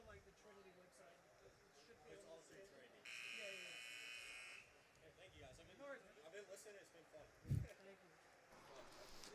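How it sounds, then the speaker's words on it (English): Halftime buzzer at an NCAA men's college soccer match, one flat electronic blare lasting about a second and a half, with a commentator talking before and after and crowd murmur throughout. "So there's the buzzer."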